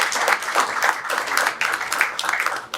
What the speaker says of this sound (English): Please, can we join in giving them a good round of applause?